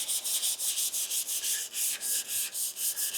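Block sanding a car hood with 320 grit sandpaper in a garage paint job gives rapid, even back-and-forth rasping strokes, about a dozen in quick rhythm, close and alone.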